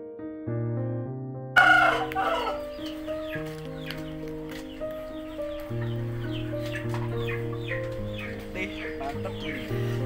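An Indio Gigante rooster crows at a home poultry farm. The calls are moderate in volume, sustained and tonal, with shorter clucking and fowl sounds scattered through the background.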